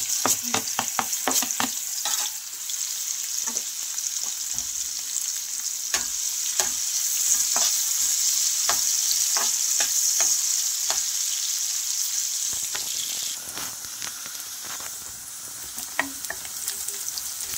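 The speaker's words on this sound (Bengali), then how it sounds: "পেঁয়াজ রসুনটা ভেজে নিয়েছি।" Chopped onion and garlic fry in a pan with a bright, constant hiss, while close spoon scrapes and taps land in an irregular rhythm throughout.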